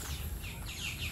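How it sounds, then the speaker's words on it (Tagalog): Birds chirp and call outdoors outside a house, with short, faint high tweets recurring over a steady low background rumble. "Marinig nyo lang po dito yung huni ng ibon."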